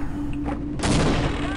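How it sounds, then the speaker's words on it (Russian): A satchel charge explodes in the game Half-Life, giving a sudden loud blast with a broad, rumbling crack that follows a brief quieter lead-in of game sounds. "Дальше, в ход пойдут у нас наши взрыв-пакеты."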